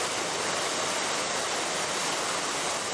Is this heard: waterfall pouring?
yes